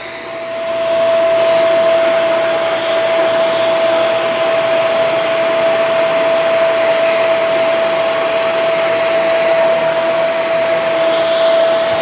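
A Shark Vertex DuoClean AZ2001AMZ vacuum cleaner powers up and runs on carpet with a loud, steady motor whine and airy rush that holds unbroken to the end.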